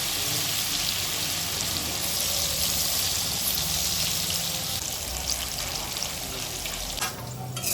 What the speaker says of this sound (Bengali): আলু ভাজা হবে এগুলো।